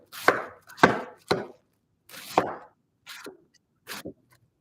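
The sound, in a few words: knife finely slicing cabbage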